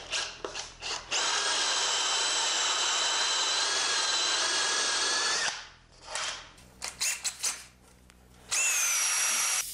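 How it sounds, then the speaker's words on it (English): A hand-held power drill with a Forstner bit whines steadily as it bores overlapping flat-bottomed holes into pallet wood for a door mortise, running in long sustained bursts with short pauses and a few brief starts between them. "the beauty of Forstner bits is they drill a nice flat bottom hole and the holes can overlap"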